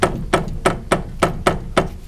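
A worn lower ball joint on a Mazda Miata suspension knocks in a quick, even series of sharp clunks, about seven in two seconds, close and loud with no talk.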